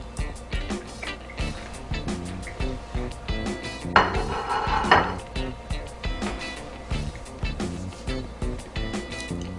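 A utensil scraping and tapping against a grilled salmon fillet on a Power Smokeless Grill XL, repeated clinks and scrapes in an uneven rhythm, close up, with one louder scraping pass in the middle.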